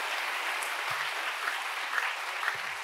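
Sustained applause from a church congregation at a worship gathering, a dense even wash of many hands clapping at steady loudness with no voices over it.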